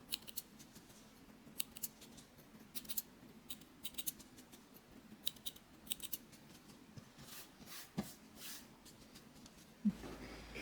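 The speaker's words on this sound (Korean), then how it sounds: "똑같이 쪽가위로, 되도록이면 쪽가위로 이렇게 정리해주세요." Small snip scissors trim 8 mm yarn on a handmade mesh-knit winter bag, giving a series of crisp, close snips at irregular intervals against a quiet background.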